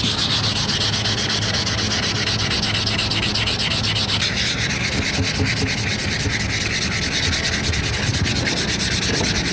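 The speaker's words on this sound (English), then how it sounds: "Do a little wet sanding." Close, continuous rasping of wet sandpaper rubbed back and forth on the gas tank of a 1970s Honda CB360 motorcycle, a steady loud scrubbing with no talking.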